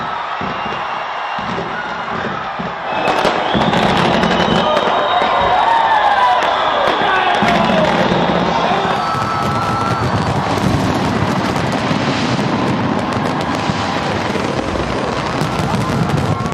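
New Year's fireworks over Sydney, Australia, with a celebrating crowd: a continuous dense wash of crackling bursts and booms blended with cheering and whooping, loud and sustained throughout.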